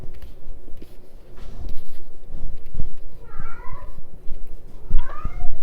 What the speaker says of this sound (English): That's my cat, Diesel.